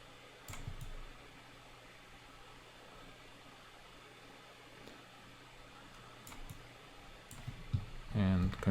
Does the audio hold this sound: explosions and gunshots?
no